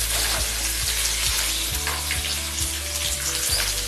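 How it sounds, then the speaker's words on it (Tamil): Onions for a green tomato chutney fry in hot oil as they are mixed, a loud, dense sizzle with rhythmic scraping strokes every half second or so, close up and without talk. "வெங்காயம் போட்டுட்டு நல்லா மிக்ஸ் பண்ணிக்கலாம்"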